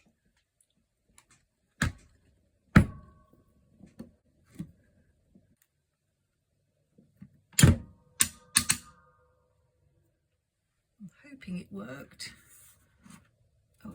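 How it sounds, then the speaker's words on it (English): Planner punch prongs snapping back into place on a planner cover, a few sharp separate clicks and clacks spaced apart, with a short spoken remark near the start. "The noise you heard was the prongs returning to their place."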